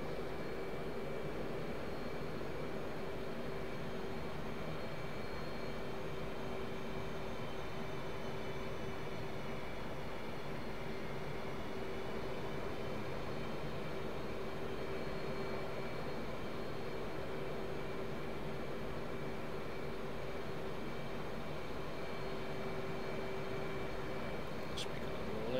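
An F/A-18C Hornet jet approaching an aircraft carrier in the DCS flight simulator, a steady engine roar and whine holding constant throughout, with a voice talking over it.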